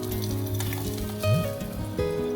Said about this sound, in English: I'm going to start off frying the chili and also the salted vegetables